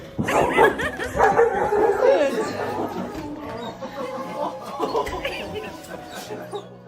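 An excited dog greets its owner after six months apart on duty, giving a burst of high yips and squealing whimpers up close, then a quieter stretch of softer whines and short barks.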